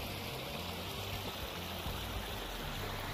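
A rain-swollen stream in Portugal runs fast under a channel toward the river, a steady, full rushing wash of water with no breaks, close and continuous.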